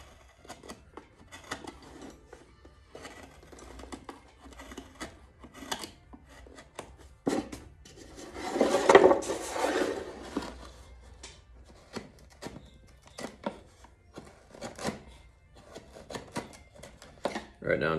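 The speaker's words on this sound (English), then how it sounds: "Right now I'm just kind of scalloping the kerf lining." A hand carving tool scallops the kerf lining inside a mandolin body, making soft, rapid scraping and snipping strokes in irregular bursts with a brief louder flurry midway, close and quiet, while a person talks softly.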